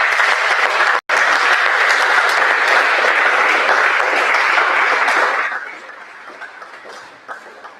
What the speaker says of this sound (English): another round of applause for the presentation